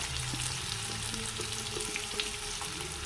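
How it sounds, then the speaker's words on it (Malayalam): Chopped onion, garlic, ginger and green chilli sizzle steadily in hot coconut oil, a continuous close frying hiss with faint stirring taps, no voices. "അപ്പോൾ വെളിച്ചെണ്ണ ചൂടായി അതിലേക്ക് രണ്ട് സവാള ഒരു വെളുത്തുള്ളി ഒരു വലിയ കഷ്ണം ഇഞ്ചി മൂന്ന് പച്ചമുളക് അതൊക്കെ അരിഞ്ഞത് അതിലേക്ക് ഇട്ട് കൊടുക്കാം"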